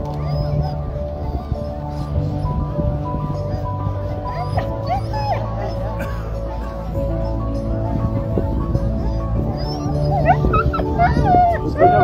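Sled dogs of the Hoots breed bark, yip and whimper in a busy, continuous chorus at a race start in Aussois, mixed with crowd noise and a commentator talking over them, growing louder toward the end.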